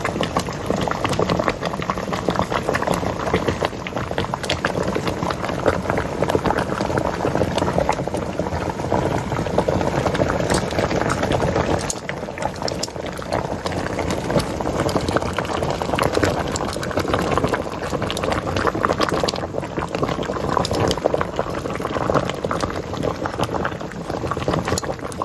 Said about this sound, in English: put them in some hot boiling water for maybe about 2 or 3 minutes, just until they start to wilt.